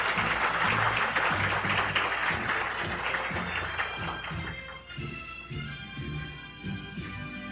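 Audience applause at a scholarship award ceremony, a dense sustained clatter of many hands clapping, loud at first and gradually thinning over several seconds with no talk.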